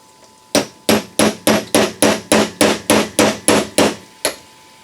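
A hammer strikes a sharpened, ground-to-a-point chisel twelve times in a steady rhythm, cutting through a metal bushing during a 4R70W to Dana 20 transmission swap; sharp, close metallic blows with short ringing decays.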